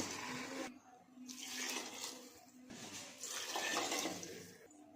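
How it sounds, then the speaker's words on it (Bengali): Water pours into a pot of rice for pilaf with a steady splashing rush that swells and dips over a few seconds, close by and moderately quiet, with no talk. "চার বাটি জল দিয়ে দিলাম"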